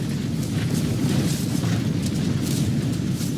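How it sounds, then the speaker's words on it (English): Flamethrowers burn an enemy army during a dusk siege battle in Medieval II: Total War, Stainless Steel Titanium mod. A continuous loud roaring rumble of fire and battle noise fills the whole stretch without pause or speech. "Flamethrowers are destroying the enemy army."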